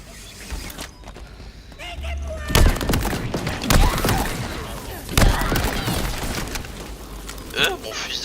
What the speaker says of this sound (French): Mon fusil d'assaut, chef.